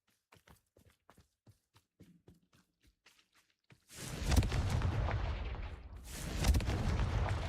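After a run of light footsteps, a Confringo spell in Hogwarts Legacy detonates into a loud, rumbling explosion that roars for a couple of seconds and then swells with a second blast.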